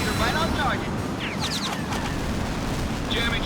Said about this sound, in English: Multiple explosions, flight leader, right on target